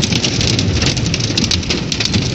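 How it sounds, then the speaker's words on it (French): Hail and heavy rain pound down during a thunderstorm at Le Mas d'Agenais, a dense, steady close-up clatter of pellets and drops drumming on surfaces with no voices. "regarde la grêle qui tombe"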